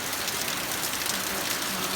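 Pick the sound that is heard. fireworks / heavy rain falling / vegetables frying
heavy rain falling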